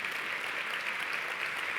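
Brief, even applause closes a round-table panel on natural resources in infrastructure projects, a soft, steady patter of clapping lasting under two seconds with no voices.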